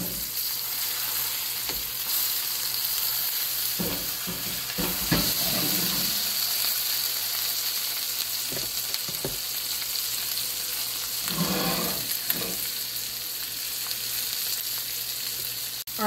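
Steak frying in butter in a pan gives a steady, close sizzle and hiss throughout, broken by occasional louder spattering bursts and soft scrapes as the butter is moved.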